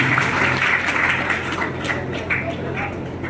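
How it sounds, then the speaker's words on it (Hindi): Applause from an audience at a Bairagi community meeting in Sonipat, held to elect a district committee: steady, dense clapping filling the whole stretch at a fairly even level, with scattered sharper claps standing out. "बहुत बढ़िया, तालियां बजती रहनी चाहिए।"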